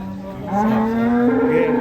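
A sacrificial cow (sapi kurban) at a farm gives one long, loud, drawn-out moo that swells partway through and holds steady to the end.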